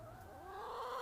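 Chickens cluck in a backyard flock kept alongside a temporary coop, some of the hens molting; a short run of rising, warbling clucks sits close by with no talk over it.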